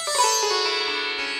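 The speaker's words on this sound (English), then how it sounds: "we sometimes can use our pinky to kind of strum through all the strings, the tarabs, and it's going to give you an effect similar to this." Pinky strum sweeping across the taraf sympathetic strings of a sitar, giving a bright, shimmering wash of many ringing tones that sustains and slowly fades, close and alone.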